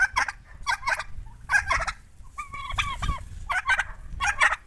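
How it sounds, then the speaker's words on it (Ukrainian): Several turkeys gobbling in repeated rapid bursts, close and loud, with farmyard noise between the calls. "От такі індики."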